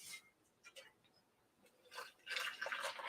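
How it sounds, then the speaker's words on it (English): Hot water poured in a small stream into sweetened matcha powder, a soft trickling splash that swells toward the end, with brief quieter gaps before it. "I'm going to put a teeny tiny bit of water in there"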